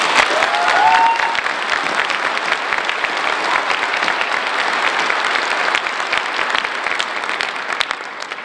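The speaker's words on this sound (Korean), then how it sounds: "힘찬 박수를 보내주시기 바랍니다" An auditorium audience claps vigorously at a university president's inauguration ceremony, a dense, sustained wash of applause that holds steady for several seconds before thinning slightly near the end.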